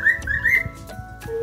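A pet budgie or cockatiel gives close, clear whistled chirps in a quick run of short notes, with a few soft clicks between them.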